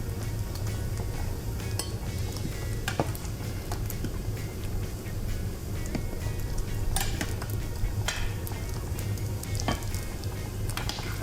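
Bacon frying in a pan crackles and sizzles steadily up close, with scattered sharp pops and an occasional light clink of a utensil against the pan.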